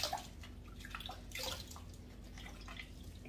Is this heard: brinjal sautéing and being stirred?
no